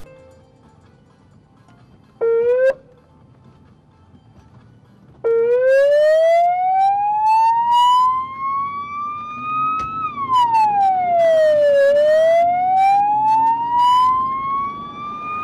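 An ambulance siren wails through crowded Bucharest evening traffic after 9 pm, a short blip followed by a loud, sustained rising and falling tone, close and alone over a low rumble of engines.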